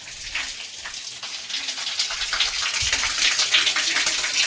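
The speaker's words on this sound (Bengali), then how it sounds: "এইখান থেকে জলটা সবসময় পড়ে, সবসময়ের জন্য পড়ে।" Water pours continuously at the Antarganga temple in Kolar, Karnataka, giving a close, steady splashing rush that grows slightly louder with no talk.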